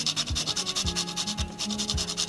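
Fresh nutmeg rubbed against a kitchen grater in a home vegan cooking setting, giving a steady run of raspy rhythmic scraping strokes, close and clear, with no talking.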